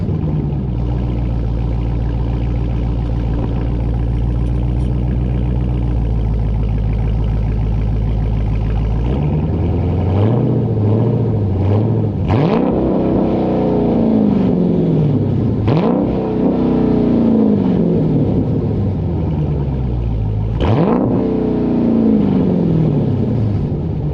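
Dodge Scat Pack with an MBRP race catback exhaust idling with a deep, steady rumble, then several loud revs that climb and fall back, each burst close and alone with no talk.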